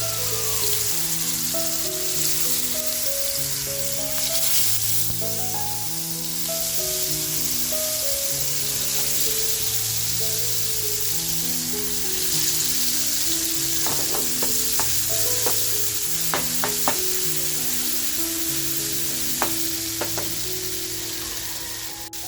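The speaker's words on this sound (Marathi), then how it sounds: "तेल छान तापलंय जी सुरमईचे पीस घेतले छान आपल्याला फ्राय करून घ्यायचे" Pieces of surmai (kingfish) fry in hot oil on a flat pan, giving a continuous close sizzle with a few sharper spits and pops near the end.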